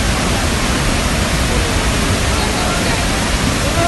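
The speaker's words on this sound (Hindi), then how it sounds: "पूरी तरह पानी गिरा है" Floodwater pours heavily at a flooded salon, a dense, steady, loud rushing roar that fills the whole stretch with no let-up.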